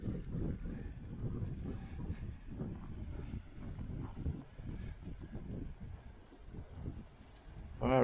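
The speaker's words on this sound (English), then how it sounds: "Ooh, a bit windy." Gusty wind at the Grafham Water lakeside in April buffets the microphone in low rumbling bursts, rising and falling throughout without any clear voices.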